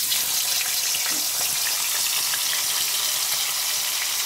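Paneer pieces fry in hot oil for a home pulao and paneer meal, a steady, loud broadband sizzle running unbroken throughout with no speech.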